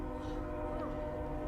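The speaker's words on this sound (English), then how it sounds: "I had to wait for the train to pass because it was just so loud." A train rumbles past outside in a low, continuous roar with steady tonal humming over it, heard indoors at a distance, unbroken for the whole stretch.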